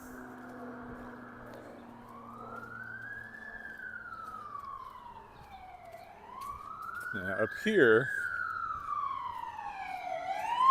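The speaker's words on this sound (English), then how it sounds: "as the fire engine goes by," A fire engine siren wails past on a city street in Regina, rising and falling in long sweeps that grow louder and nearer toward the end, with someone talking briefly over it.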